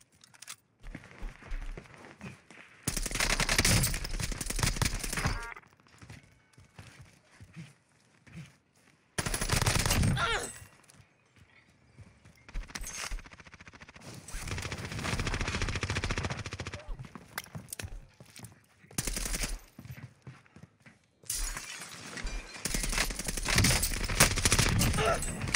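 Automatic gunfire in Call of Duty Warzone comes in several loud, rapid bursts separated by quieter gaps, with some talking in between.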